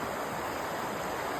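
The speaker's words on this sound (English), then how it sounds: "there we ran the rapids. Yep, we took the rapids." Rushing river rapids swirl around a kayak at a whirlpool in Red River Gorge, a steady, loud broadband roar of churning water filling the whole moment with no voices.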